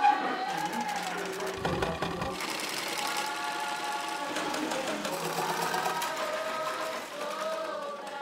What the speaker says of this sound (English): manual sewing machines,